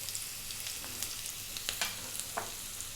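Onion, garlic and ginger frying over high heat for a mushroom potato curry, a steady close sizzle broken by light scraping taps as the pan is stirred, with no one talking.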